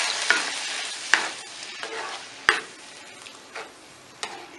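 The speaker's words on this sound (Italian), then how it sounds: "Aggiungiamo all'interno i nostri funghi" Mushrooms frying with a clove of garlic in a pan, a soft steady sizzle marked by a few sharp utensil taps and stirring scrapes spaced over several seconds.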